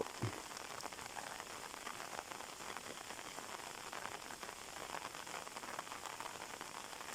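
Steady rain patters down continuously onto rice fields, a dense, even hiss of drops striking surfaces close by, with no voices.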